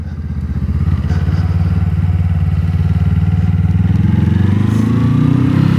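A motorcycle engine runs loud and close, its steady throbbing revs climbing gradually as gears are shifted without the clutch.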